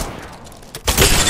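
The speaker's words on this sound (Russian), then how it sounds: "Щит врага накрылся." An enemy shield shatters in a video game firefight: a quiet stretch with faint rattles, then a sudden loud, bright burst of breaking and crackling that stays intense to the end.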